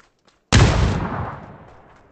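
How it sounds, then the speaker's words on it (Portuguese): A single grenade blast in the PUBG battle royale game bursts out suddenly after a short silence, loud and close, then rumbles and fades over about a second and a half. "Lá vai, granada."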